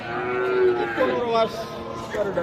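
Heifer calves of a crossbred cattle breed moo in a farm setting, a couple of drawn-out, wavering bellows close by with a brief quieter call near the end.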